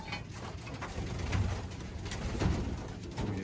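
Racing pigeons cooing in low, soft murmurs as they are loaded for a training toss, with several overlapping coos close by over a steady background hiss.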